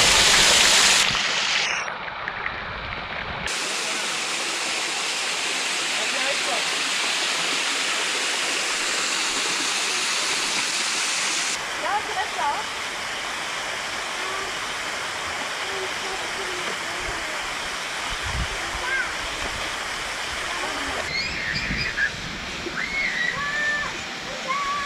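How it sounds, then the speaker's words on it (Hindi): Wangsai Waterfall on Koh Phangan, Thailand, roars as a steady close rush of falling and splashing water, continuous throughout with level shifts as the position changes. "यहाँ पे आप खड़े होके वाटरफॉल का मजा ले सकते हैं."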